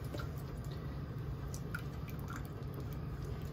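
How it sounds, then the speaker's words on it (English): A cup of buttermilk pours into a boxed Duncan Hines cake mix batter, giving a soft, steady wet glugging and dripping close by, fairly quiet and continuous with no talking. "I'm adding a cup of buttermilk."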